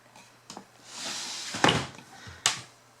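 In a home craft room, a drawer holding A3 cardstock and laminating pouches slides open with a soft, rising scrape. Sharp knocks and clunks sit before and after it, close by and fairly quiet.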